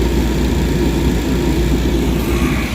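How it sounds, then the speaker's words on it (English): The combustion blower on a Carrier rooftop gas heating unit with an induced draft motor fault runs with a steady, loud, low droning hum and whoosh, constant throughout without breaks or voices. "We've got the combustion blower running"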